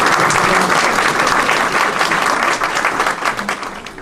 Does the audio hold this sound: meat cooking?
no